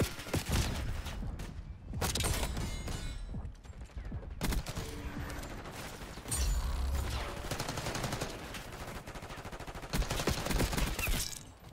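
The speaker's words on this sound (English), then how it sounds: "This shit definitely don't feel like no damn suppressor." Rapid bursts of suppressed automatic gunfire from Call of Duty: Black Ops 6 multiplayer come in several clustered volleys with short gaps between them, loud and close, with no talk over them.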